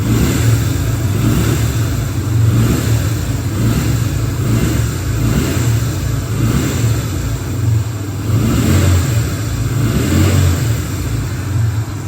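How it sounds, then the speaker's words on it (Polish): A Yamaha XV 125 Virago V-twin motorcycle engine revs steadily with a deep, throbbing low rumble, rising and falling in loose pulses throughout, loud and close with no talking. "ten silnik to jest zupełnie inna praca niż taki typowy single"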